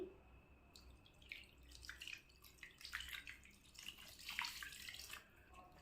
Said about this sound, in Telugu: ఇప్పుడు దీంట్లో వాటర్ వేసుకోవాలి